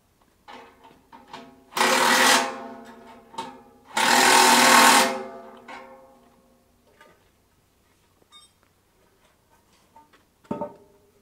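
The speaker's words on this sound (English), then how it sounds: "Bolts are tightened up using the battery impact wrench and a spanner." A battery impact wrench tightens bolts on wall formwork in two loud rattling bursts of about a second each, with metallic handling clicks and clanks around them, close up and with no talk.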